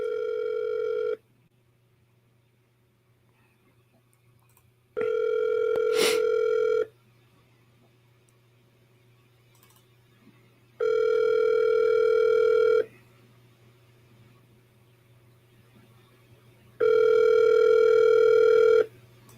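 An outgoing telephone call ringing: four long, steady electronic ring tones, each about two seconds, separated by roughly four seconds of near silence, loud and close with a faint background hum.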